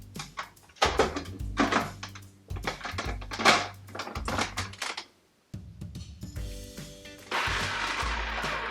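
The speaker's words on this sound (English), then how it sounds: "Now we're going to pulse this mixture together until it is combined." A food processor pulses a coffee cake mixture in several short bursts, each a loud whirring chop followed by brief pauses, with a longer final run.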